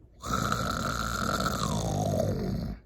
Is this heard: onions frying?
no